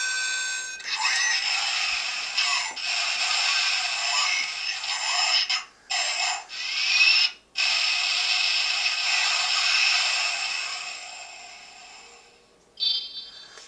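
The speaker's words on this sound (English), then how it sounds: "And then you get some basic warning sounds." A DX Power Dizer toy sounds its electronic warning tones. A continuous bright synthetic alarm with a few short breaks runs for most of the clip, close and steady, and cuts off near the end.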